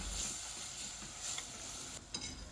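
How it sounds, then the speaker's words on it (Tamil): Onions sautéing over a low flame with garlic paste for a spicy butter garlic prawn masala, a soft steady sizzle with faint stirring scrapes throughout, close and fairly quiet, no voices. "லோ ஃப்ளேம்லேயே வச்சு வெங்காயம் நல்லா கலர் மாறி வர வரைக்கும் நல்லா வதக்கி விட்டுக்கோங்க."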